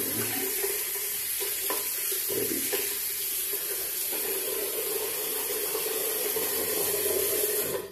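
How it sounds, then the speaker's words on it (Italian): Water runs from a faucet into a sink in a steady hiss while a face is washed, with brief splashes and hand movements breaking the flow, close by and without talking. "Bagno il viso"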